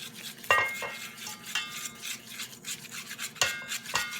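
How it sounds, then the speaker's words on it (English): Wire whisk clinking and scraping against a bowl as dry ingredients are gradually worked into a well of wet cake batter, with irregular light taps and a few sharper metallic clicks, close and quiet. "I'm going to gradually whisk this in"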